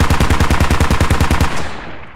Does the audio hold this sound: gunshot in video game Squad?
yes